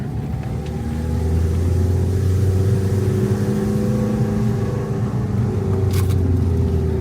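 Diesel engine of a Renault camper van running with a steady, deep rumbling drone that rises slightly in strength, close and continuous with no talk.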